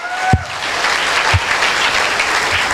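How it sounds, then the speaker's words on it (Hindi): Loud, close clapping from a crowd at a motivational gathering, a dense continuous patter with a couple of sharp thumps near the microphone. "मैं चाहती हूँ अब तक का सबसे जोरदार और शानदार ताली होनी चाहिए मिस्टर विपिन सर के लिए"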